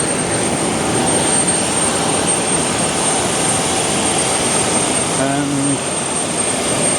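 Qantas passenger jet at Brisbane airport, a steady loud engine roar filling the scene with a brief tonal whine near the end, and a voice speaking briefly over it.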